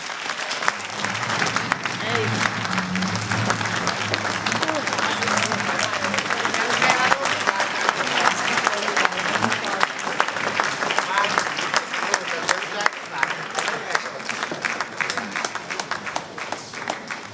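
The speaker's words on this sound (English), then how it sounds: "You can continue clapping hands." Steady, dense audience clapping in a municipal council chamber, continuing at an even level with some voices murmuring beneath it.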